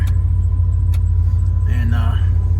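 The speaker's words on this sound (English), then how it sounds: "So we went and got the truck, and we got the heat going here." A pickup truck's engine idles with the heater running, giving a steady low rumble and cab blower noise. Faint voices and a few small clicks sit over the drone.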